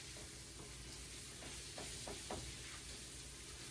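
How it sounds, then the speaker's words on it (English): Sausage gravy is stirred in a pan, with a soft continuous sizzle and faint scraping strokes of a spoon in a quiet kitchen. "Get it all mixed around."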